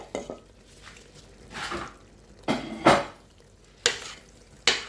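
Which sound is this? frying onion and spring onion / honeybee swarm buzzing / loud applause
frying onion and spring onion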